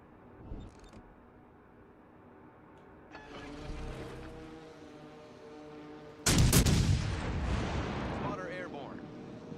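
Battleship 16-inch guns firing in the video game World of Warships: a heavy broadside blast strikes loud and sudden partway through, then rumbles on, over a softer earlier rumble and engine drone.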